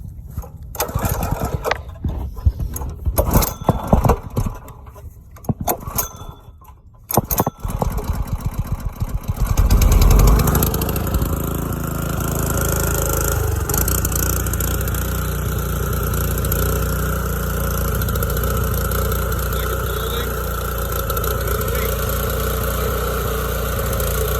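Simpson pressure washer with an AAA pump, its small gas engine sputtering and catching on restart, then settling into a steady loud running drone for most of the clip.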